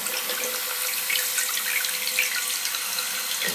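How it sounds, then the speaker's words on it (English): Toilet tank refilling once the water supply is turned back on: a steady, close hiss of rushing water that runs unbroken throughout, with no voices. "let's turn the water on and see what happens to it"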